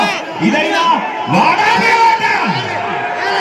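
A large crowd at a tug-of-war contest in Malom, Kasaragod, roars, whoops and cheers continuously, with shouting voices rising and falling in waves throughout.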